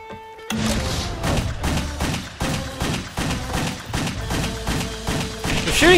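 Rapid bursts of gunfire from the video game Wet, repeated shots in uneven volleys that stay loud and close throughout, with thumping impacts mixed in.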